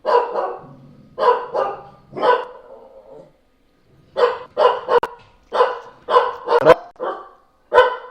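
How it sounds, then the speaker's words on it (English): A bull mastiff mix dog barks loudly and close in quick bursts of two or three, pausing briefly between runs of sharp, repeated barks. "Sorry, my dog's going off."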